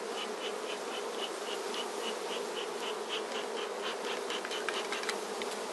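A dense, steady buzz of many honeybees fills the air around an open hive, constant and close, with no voices.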